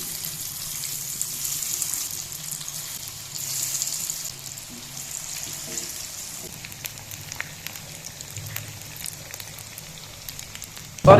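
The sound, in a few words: potato chips coated in gram flour frying in ghee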